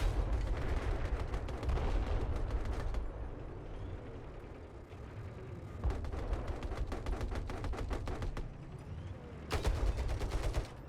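Bursts of rapid video game gunfire, loud and close, come in three dense volleys separated by a quieter stretch of rumbling background noise.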